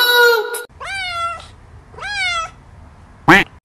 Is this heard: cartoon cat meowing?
yes